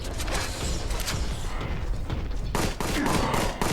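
Gunfire from a weapon in the Warhammer 40,000: Boltgun video game, a dense, continuous burst of shots with mechanical clatter, loud and close, running without a break and shifting in character partway through.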